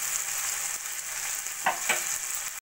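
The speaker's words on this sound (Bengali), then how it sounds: "একটু ভাজা ভাজা করে নেব।" Finely chopped garlic, green chillies and grated ginger sizzle steadily in hot oil at close range, with a couple of sharper spatters and a stirring scrape near the end.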